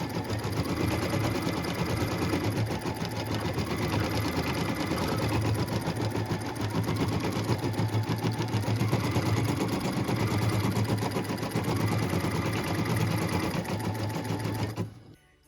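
An embroidery machine stitches a white scallop tack-down line for a Christmas ornament, its fast, steady mechanical chatter running loud and unbroken before stopping abruptly at the end.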